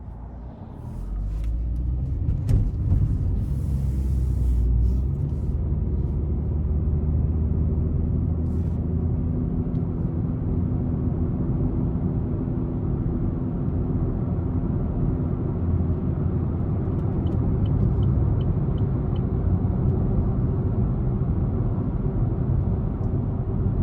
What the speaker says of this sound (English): we're going to take this Spark out on the road, take it for a quick test drive.